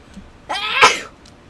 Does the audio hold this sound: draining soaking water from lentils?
no